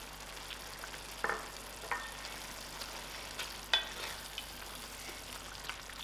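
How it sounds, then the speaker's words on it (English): Grated tomatoes fry in a pan for a chayote curry, a faint, steady sizzle broken by a few soft clinks of a spoon against the pan. "I'm gonna put in my grated tomatoes"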